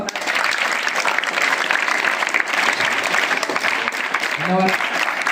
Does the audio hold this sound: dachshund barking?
no